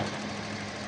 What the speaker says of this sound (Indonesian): Oke, kita dengarkan suara mesin.